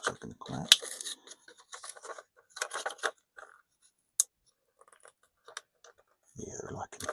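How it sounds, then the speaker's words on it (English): Scissors snip through the cling-film plastic packaging around CR2032 coin batteries, giving a few crisp close cuts and crinkles among quiet handling noises. "I might need some scissors to get these out"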